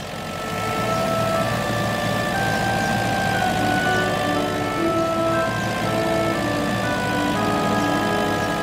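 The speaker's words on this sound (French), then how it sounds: "Le transporteur chargé des voitures est en train de rouler sur la route" A loaded cartoon car transporter truck rolls along a road, giving a steady, fairly loud engine drone from start to finish, with sustained musical tones layered over it.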